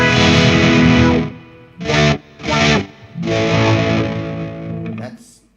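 Heavily distorted electric guitar chords through a GP5 pedal ring out in long sustained bursts, broken by two short stabs, loud and close with a chorus-like shimmer.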